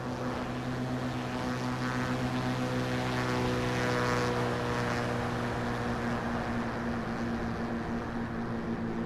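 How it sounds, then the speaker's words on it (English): A Cirrus SR22 single-propeller plane in the X-Plane 12 flight simulator drones past in a steady, loud flyby, its engine hum and prop buzz holding constant and swelling slightly midway, with no talk. "Here's a quick flyby, a cinematic flyby for you guys."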